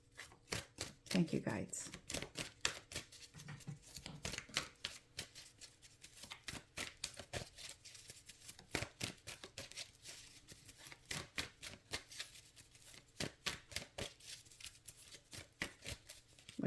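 Archangel Oracle cards being shuffled in rapid, crisp riffling bursts, close and fairly quiet, with a person speaking briefly early on.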